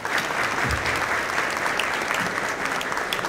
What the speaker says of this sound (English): Let's give Miss Weaver a round of applause.